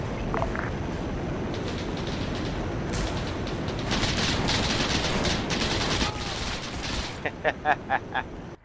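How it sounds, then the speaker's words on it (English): Machine-gun fire in the Arma 3 WWII-era Iron Front mod, a dense, continuous wash of distant automatic gunfire and battle noise, ending in a short run of sharper, closer bursts. "Armor's engaging machine guns, the lower compound."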